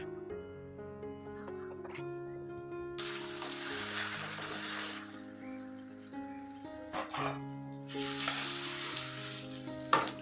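Bursts of crackling sizzle from an egg frying in a pan over a quiet background with sustained tones, with brief clatter of a utensil.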